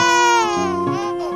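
A baby's cry sounds from a toy in a play scene with a police motorbike and construction truck. It is a loud, steady, wavering electronic wail that is close and clear.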